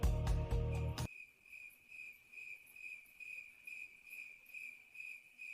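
Cricket chirping sound effect: a steady, high insect trill pulsing rhythmically on its own after a brief burst of louder sound at the start, faint and continuous.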